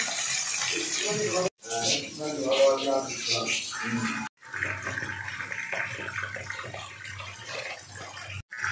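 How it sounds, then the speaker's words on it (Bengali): Water running at a home, a steady rushing stream heard close with splashing, and voices talking over it in places. "জল পড়েই যাচ্ছে।"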